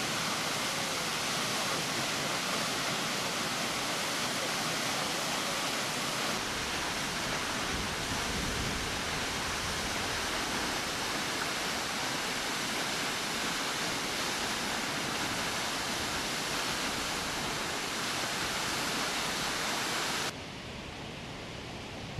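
The Hundafoss waterfall in Iceland, on the Svartifoss trail, roars continuously, a dense, loud rush of water with no breaks.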